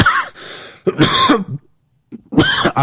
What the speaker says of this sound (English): cough on the microphone. It happens.